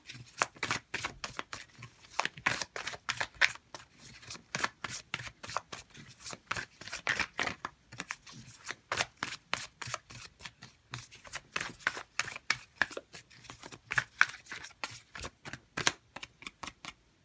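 Tarot cards are shuffled by hand in a steady run of quick riffling flutters and soft slaps, close and clear, continuing for about seventeen seconds with no voice over them.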